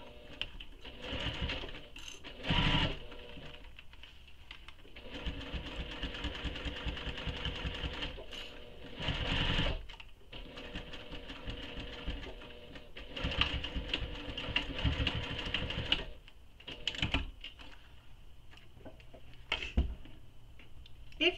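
A sewing machine stitches the lining and exterior of a fabric wristlet in several bursts of rapid, even mechanical whirring, with short pauses between runs and a few quick single stitches.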